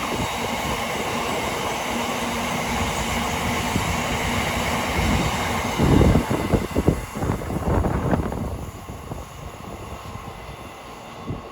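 A Class 390 electric train, unit 390-104 bound for London Euston, passes through Watford Junction on the West Coast Main Line, a loud rushing roar with rhythmic wheel clatter over joints that fades as it moves away.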